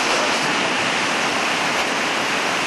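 Water pours steadily over the river weir in Bath, a dense, continuous broadband roar that stays loud and unchanging throughout, with no voices over it.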